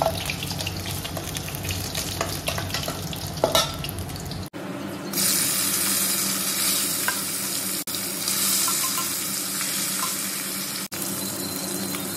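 Steady sizzling of fish frying in hot oil, broken by a couple of brief dropouts, with some stirring and scraping noises near the start.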